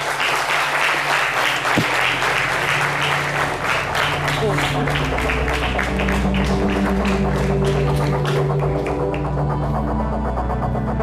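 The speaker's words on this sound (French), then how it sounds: "avec vos très, très dynamiques applaudissements, s'il vous plaît" Lively studio audience applause on a French-language midday television show, a loud, dense wall of clapping that runs the full length, over a low hum and faint tonal music underneath.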